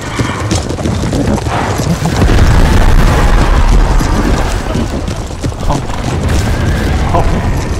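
Booming artillery cannon fire in an Empire: Total War mod battle, dense low rumbling blasts rolling continuously over the whole stretch under a busy battlefield din with hooves and a talking voice.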